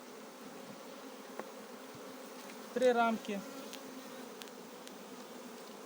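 Honey bees crowd a hive package box being filled with frames, giving a steady, soft droning hum throughout, while a voice speaks briefly in the middle.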